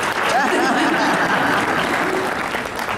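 Dense, loud clapping from a large audience at a National Action Network convention women's breakfast, steady throughout with crowd voices mixed in.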